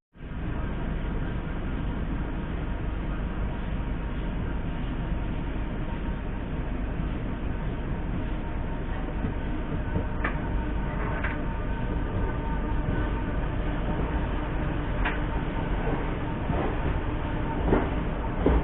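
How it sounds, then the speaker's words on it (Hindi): Farakka Express passenger train running between Varanasi and Delhi, a continuous loud rumble and rattle heard from inside the coach, with a few sharp clicks of wheels over rail joints toward the end. "यहाँ पे हम लोग की जो ट्रेन है वो बिल्कुल राइट टाइम पे आई है"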